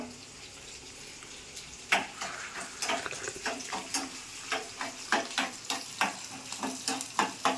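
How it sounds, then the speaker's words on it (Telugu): Onion and garlic temper in hot oil for tomato dal, a steady close sizzle punctuated by repeated sharp spatters and stirring scrapes. "ఇలా ఉల్లిపాయలు వెల్లుల్లిపాయలు ఆయిల్లో బాగా ఫ్రై చేసి పప్పులు వేస్తే బాగుంటాయి"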